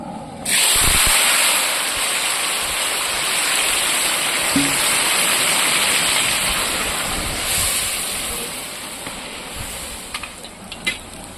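Turmeric-coated food dropped into hot oil, breaking into a loud, steady sizzle that holds for several seconds, then eases off, with a few utensil clicks toward the end.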